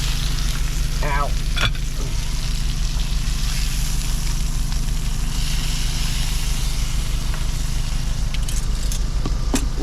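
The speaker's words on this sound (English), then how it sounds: "New York strip steak for 2023. First one, pan fried." A New York strip steak sizzles loudly with onions in a pan inside a truck, a dense steady crackle running throughout, with a low engine-like hum beneath and a few clinks of a utensil.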